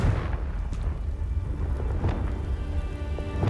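A Confringo fire spell bursts in the video game Hogwarts Legacy, a dense roaring rumble with crackling, thunder-like booms that keeps going without a break under layered game effects.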